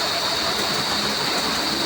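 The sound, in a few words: heavy rain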